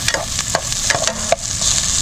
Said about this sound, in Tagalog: Tuloy natin yung paggigisa ng sibuyas,